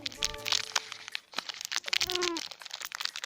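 A blueberry Smart Food snack bar wrapper crinkles and crackles close up as it is slowly torn open, with bursts of crumpling plastic alongside some faint speech.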